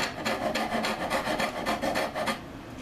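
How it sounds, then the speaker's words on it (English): A half round rasp files a wooden workpiece near a heel joint in rapid, rhythmic strokes, each stroke a close, coarse rasping scrape repeating steadily for nearly three seconds before easing off at the end. "I think I'm probably going to have to go to a half round rasp"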